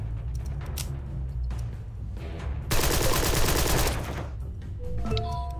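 Sustained gunfire in the crime strategy game Empire of Sin, with rapid overlapping shots building into a loud, dense burst midway before thinning out, ending with a few lighter clicks.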